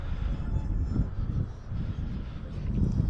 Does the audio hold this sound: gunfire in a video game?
no